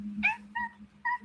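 House cats meowing during an indoor live stream: three distinct meows in quick succession, the first loudest and the next two shorter, close to the microphone over a low steady hum.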